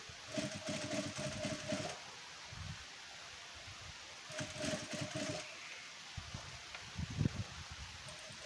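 A sewing machine stitches a katpadar blouse neckline in two steady bursts of rapid whirring with pauses between them, fairly quiet and close, with some soft handling rustles.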